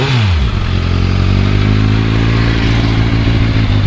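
A Kawasaki Z900 motorcycle with a slip-on exhaust and catalytic converter fires up. The starter whirs briefly, then the engine catches into a loud, steady idle that stays close and runs alone to the end.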